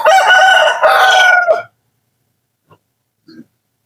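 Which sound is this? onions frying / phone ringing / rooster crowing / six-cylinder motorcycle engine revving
rooster crowing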